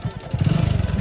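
A motorcycle carrying four riders throbs with a loud, close engine whose quick, regular firing pulses rise in speed and strength partway through, with no voices over it.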